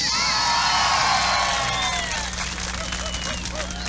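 Lively crowd applauding and cheering at an anniversary event with a live band, loud whoops and clapping at first, then tapering slightly while the crowd noise continues.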